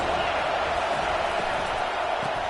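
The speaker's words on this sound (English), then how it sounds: "This crowd bringing the energy and noise early." A football stadium crowd fills the air with a dense, steady roar that stays loud and unbroken throughout, with no distinct cheers or claps standing out.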